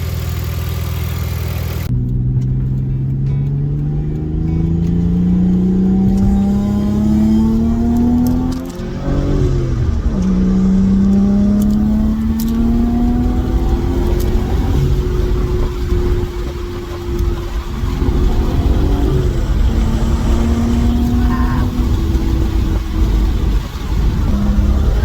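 A 2002 Audi B5 S4 drives along, its engine rising and falling through gear changes with revving climbs, close and steady for the whole run after a brief quiet start.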